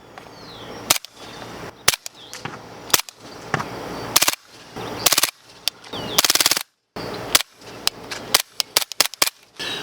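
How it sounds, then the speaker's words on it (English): Suppressed MP5-K submachine gun with an RS9 suppressor fired into dirt: a quick run of about twenty close, dull, clapping shots in irregular semi-automatic rhythm, with brief clustered pairs and gaps between. "we'll put our first round off into the dirt so we can hear the can. Very, very quiet. The RS9 never disappoints."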